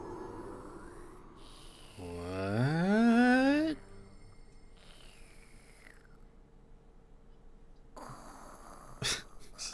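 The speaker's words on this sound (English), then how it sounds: "Got some weird snoring." A character snoring in the video game Little Witch Academia: Chamber of Time, one long rising, wheezy snore near the middle, fairly clear over a quiet background with faint game sounds.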